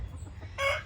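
Backyard chickens give a short burst of clucking calls, two quick squawky notes close to the listener after a quiet, low rumbling moment.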